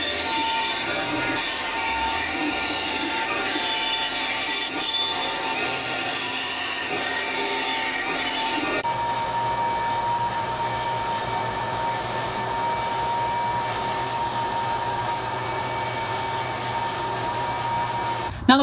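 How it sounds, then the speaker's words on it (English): A bandsaw cuts out a wooden circle with a continuous, slightly squealing rasp of blade on wood. The pitch shifts partway through as the cut curves, and it runs steadily without speech. "Now we got a nice circle that we can cut out on the bandsaw."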